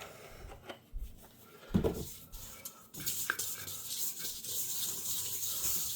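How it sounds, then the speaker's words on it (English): Olive oil rubbed by hand around the inside of a slightly dirty mixing bowl for bread dough, giving soft, uneven rubbing and scraping with a few louder knocks and bumps, close by and fairly quiet. "Just rub that around on the inside."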